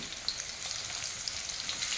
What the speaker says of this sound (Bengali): তেল গরম হলে এর মধ্যে দিয়ে দেবো কিছু আলু